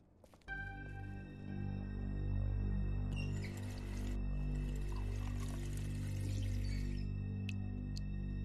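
Water pours steadily from a tap into a kitchen vessel in The Wolf Among Us, a continuous close gush over low resonant hum, with splashy brighter bursts in the middle.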